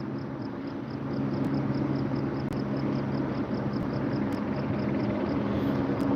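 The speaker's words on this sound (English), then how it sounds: "Man, those choppers are still on this side." Steady, loud rotor and engine drone from news helicopters hovering over a student protest at Cal State LA, a continuous low rumble with no break and no voices.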